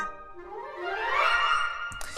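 A Hollywood Winds woodwind scale run sweeping quickly upward in a bright rising flurry that swells louder toward the top, then breaks off into a brief soft chord at the end.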